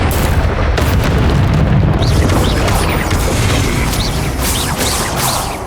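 Repeated Confringo fire-blast spells exploding in the Hogwarts Legacy video game, a dense, continuous run of booming bursts and crackling impacts that stays loud and full throughout, with no talking.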